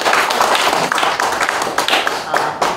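Church congregation applauding in welcome at a church founding and denomination-joining service, dense steady clapping filling the room throughout, with faint talk underneath.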